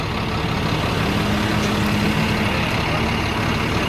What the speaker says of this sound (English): This is one of the K trucks, I believe they're calling it.